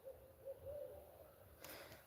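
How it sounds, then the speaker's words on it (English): An owl hoots in the trees of a northern mountain farm, a few soft, low hoots spaced across a quiet outdoor background, faint and distant, with a brief rustle near the end. "Oh, there's my owl again."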